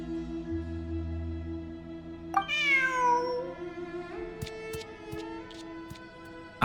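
In a video game, a cat lets out a clear, close meow that slides down in pitch, set over a quiet musical background with soft tones and a few light clicks afterward.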